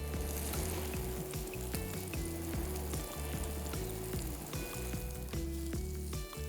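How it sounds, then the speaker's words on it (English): Pork searing in hot clarified butter in a pan, a steady close sizzle and crackle with no voices. "I'm gonna go in with the pork. We're gonna sear it."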